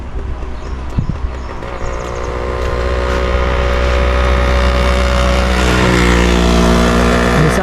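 An auto rickshaw speeds past on a rural Konkan road in rainy weather, its engine drone rising steadily louder as it approaches close by.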